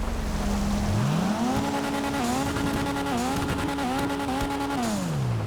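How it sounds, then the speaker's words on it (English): A Dinka Jester Classic's engine drives through rain in GTA V Online, a loud, steady drone whose pitch rises and dips again and again with slipping-clutch revs, close and continuous with no talking. "this car, instead of driving normally, it just sounds like the clutch is slipping 24/7"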